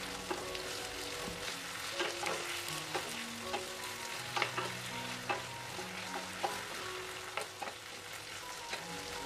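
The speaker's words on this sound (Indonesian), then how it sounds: "Kemudian aduk-aduk supaya tercampur merata." Tuna rica-rica with salt, sugar and stock powder being stirred in a pan: a constant sizzle broken by repeated scraping and clinking strokes of a spatula, close and fairly loud, no talk.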